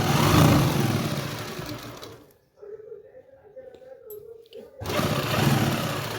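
A sewing machine stitches a salwar hem with buckram laid along the edge, giving a dense, loud whirring run at the start and again at the end, with a quiet pause between.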